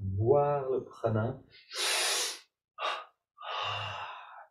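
A person breathing during a yoga meditation exercise: a voiced sigh or gasp, then several long, airy, close inhalations and exhalations separated by brief silences.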